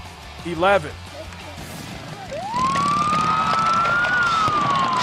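A police motorcycle escort siren at Leon Williams Stadium before a high school football playoff game rises and holds a loud steady wail over crowd and outdoor noise, after a brief warbling chirp.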